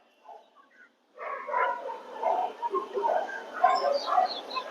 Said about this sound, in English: What is happening to the dogs in my street?